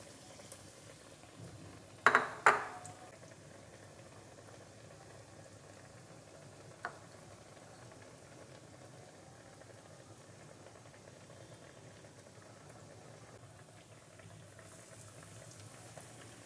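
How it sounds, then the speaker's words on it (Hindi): Bread-crumbed potato fingers bubble in hot oil as a faint, steady frying hiss, with two sharp clinks of utensils early on and a small tap later, no one speaking. "और आराम से ऑयल में डालते जाएं।"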